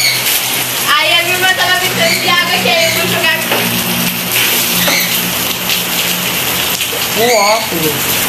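Heavy rain pours steadily onto surfaces nearby, a dense continuous hiss, while excited voices shout and laugh over it at intervals.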